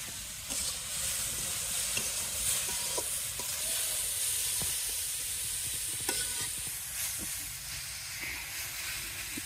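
Radish bhaji sizzles and hisses in a pan while it is stir-fried, with a spatula clinking and scraping now and then. The frying noise is close and steady throughout, and no one speaks.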